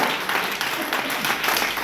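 A crowd claps together at a motivational direct selling seminar, a brief even burst of dense applause that holds at a steady level throughout.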